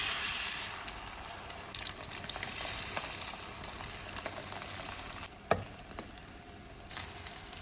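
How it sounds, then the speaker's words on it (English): An omelette sizzles steadily in a frying pan, a continuous close hiss with a few light clicks and one sharp tap of a utensil against the pan, no talking. "So we fry omelette first."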